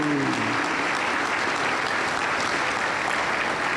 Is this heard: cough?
no